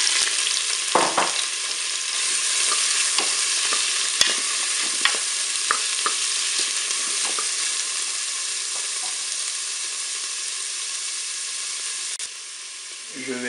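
Shrimp sizzle and fry in hot olive oil inside a Cookeo multicooker, a steady loud hiss with scattered stirring clicks and scrapes throughout, easing slightly near the end.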